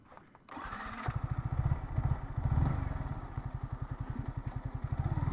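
A motorcycle engine starts and settles into a loud, close, chugging idle with steady rhythmic pulses throughout, at Gajni Obokash, Bangladesh.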